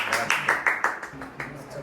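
A group claps in a quick, steady rhythm to welcome the decorators at a Ganpati decoration gathering, with about a dozen sharp, close beats over less than two seconds.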